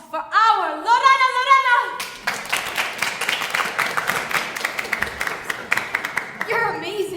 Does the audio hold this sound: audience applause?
yes